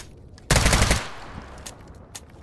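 Automatic gunfire in the survival shooter STALKER GAMMA, a loud half-second burst of rapid shots that cuts off sharply, followed by quieter scattered clicks and faint distant pops.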